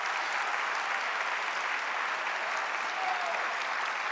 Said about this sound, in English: These folks, give them a big round of applause.